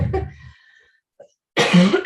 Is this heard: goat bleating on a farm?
no